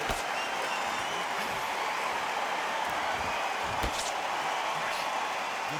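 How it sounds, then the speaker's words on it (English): Boxing arena crowd buzzing before a heavyweight bout, a dense, steady roar of many voices and scattered claps filling the hall at an even level. "The crowd here cannot wait. They've been buzzing all day long"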